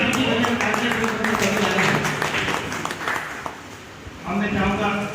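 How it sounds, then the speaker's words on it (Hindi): Loud applause from an audience at a commemorative birth anniversary gathering: a dense wash of clapping under a voice over a sound system, dipping briefly and then swelling again. "जोरदार ताली का स्वागत"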